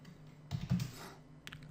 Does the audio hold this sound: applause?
no